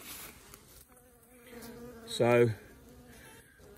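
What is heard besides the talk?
honey bees buzzing at beehives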